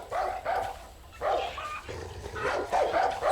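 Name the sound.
dog barking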